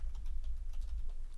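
A computer keyboard being typed on to enter a password, a quick run of soft close key taps over a low steady hum.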